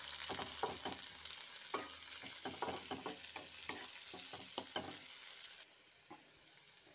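Chopped onion and onion greens fry in a pan, sizzling steadily with repeated stirring clicks and scrapes, then the sizzle drops to a quieter simmer near the end; no talking.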